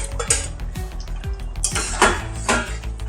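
Soaked paneer cubes go into a pan of drying chana paneer masala curry, with clinks of metal utensils against the pan and soft stirring scrapes over a low simmer.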